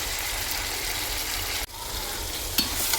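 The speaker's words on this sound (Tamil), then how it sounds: "இப்போ தக்காளி வெங்காயம்லாம் நல்லா வதங்கிடுச்சு." Tomato and onion sauté in oil for a dried fish curry, a loud continuous sizzle that briefly drops out midway, then resumes with a stir or clink near the end.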